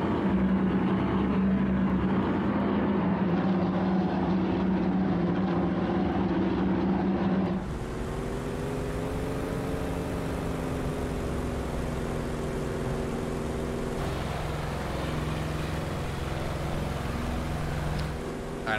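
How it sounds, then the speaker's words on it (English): The radial piston engine of a P-47D Razorback in Microsoft Flight Simulator 2020 drones loudly and steadily from inside the cockpit, with a brief shift in tone partway through before the deep hum carries on without talk. "Inside P-47 from Airplane Heaven, this is the original sounds."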